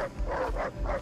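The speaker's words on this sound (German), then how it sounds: "Die Hunde, die machen aber auch einen Lärm. Die bellen ja die ganze Zeit, ey." Dogs bark in the video game Far Cry 3: three or four rhythmic, fairly loud barks in quick succession, fairly close, with no talking over them.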